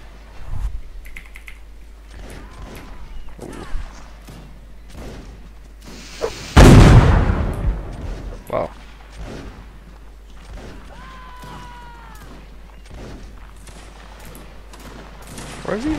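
Musket gunfire in Mount & Blade Warband Napoleonic Wars sounds as scattered sharp cracks across a battlefield, with one loud close shot, while keyboard typing clatters and voices talk in the background.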